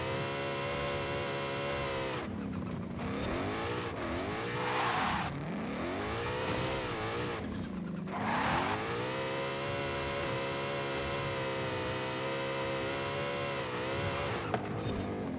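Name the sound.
1500 hp all-wheel-drive Mustang drifting, tires squealing, Forza Horizon video game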